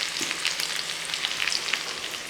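Fenugreek, sliced shallots and dried red chillies frying in oil: a bright, constant sizzle dotted with rapid crackles and pops, close by and without talk.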